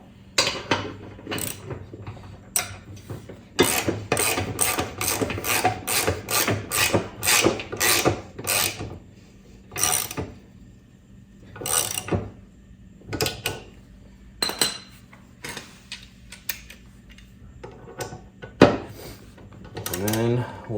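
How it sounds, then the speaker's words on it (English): Socket wrench ratcheting on a blade bolt of a John Deere 100 Series riding mower, a long run of rapid clicking bursts up close with pauses between strokes, then sparser single ratchet clicks. "let me get it on with the socket wrench first"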